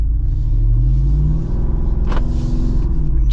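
A 2025 Jeep Wrangler 392 with a V8 engine idles with a deep, loud, steady rumble up close. A faint rev swells briefly near the end, and there is no talking.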